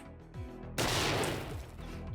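A burst explosion in 7 Days to Die, triggered by the PhD perk from a Call of Duty zombies perks mod, a sudden loud blast that decays into rumbling debris over a low game background.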